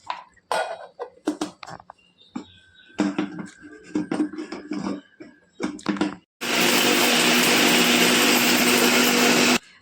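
Cinnamon sticks ground in an electric spice grinder, a loud steady whirring burst that starts suddenly after scattered clinks and kitchen handling noises, then runs continuously to the end.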